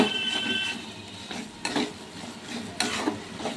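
Boiled taro stems cooking in a pan after tempering with spices, a soft continuous sizzle with intermittent scraping stirs of a spatula against the pan, close by.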